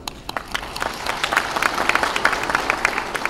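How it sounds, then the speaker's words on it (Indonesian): Crowd at the opening of a national coordination meeting for a social assistance program breaks into applause, scattered claps at first building into a fuller, brisk round of clapping in a large hall. "SDM PKH, tepuk tangan."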